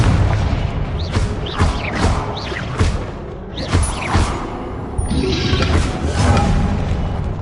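Repeated Confringo fire spell explosions in Hogwarts Legacy: loud booms and whooshing bursts land in a rapid, uneven series across the clip, close and heavy, with little talk.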